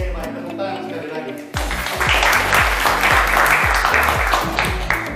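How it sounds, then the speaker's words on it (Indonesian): Schoolchildren in a classroom break into applause after a quiet moment, a sudden burst of clapping that quickly falls into a fast, regular rhythmic beat and continues steadily, loud and close. "Tepuk tangan sekali lagi"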